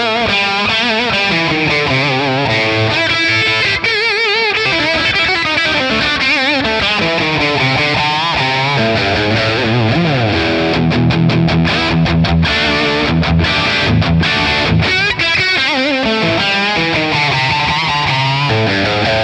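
An electric guitar runs through a Friedman Plex amp tone model with plate reverb, playing distorted chords and fast lead lines, loud and saturated with a reverberant tail and no speech.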